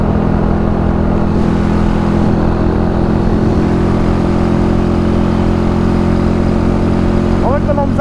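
A modified Honda CG Today motorcycle, bored out to 240cc, cruises on a highway with a steady, loud engine drone and wind rush. The engine revs up briefly near the end.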